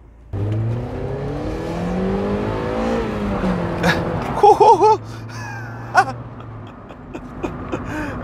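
Car pulling away from a windy, breezy car park, engine note rising through gears close by with wind buffeting, a few brief squeaks and clunks, no talking.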